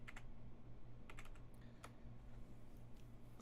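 Quick bursts of close keystrokes on a computer keyboard, a few clustered taps over a quiet, faintly humming room.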